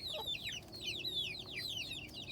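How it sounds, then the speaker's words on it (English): Hen and her freshly hatched chicks in a makeshift backyard pen, with high rapid peeping chirps from the chicks over soft low clucking throughout, close and steady. "these are the chicks that I hatched. They are ready with their mama."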